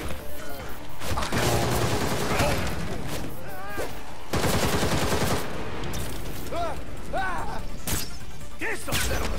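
Rapid bursts of gunfire from a Gotham Knights video game fight crackle through busy combat noise, with repeated sharp volleys, impacts and mechanical clatter over several seconds, and a character's voice calling out between the shots.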